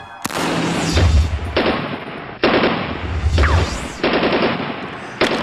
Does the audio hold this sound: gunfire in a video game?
yes